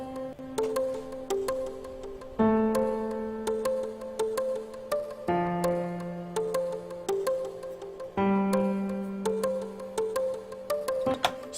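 Piano plays a melody over fitted chords for a track production, with steady struck notes and chord changes roughly every three seconds, clear and alone.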